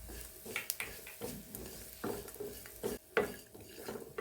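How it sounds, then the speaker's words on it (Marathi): Whole spices with coconut being stirred and sautéed in a little oil in a pan for a Bhogi mixed-vegetable masala, with intermittent scraping and clinking of a spoon against the pan over a soft sizzle, no voices. "सगळं एकत्र मी आता थोडेसे तेलावर परतून घेणार आहे. आता यात खोबरं घालूया."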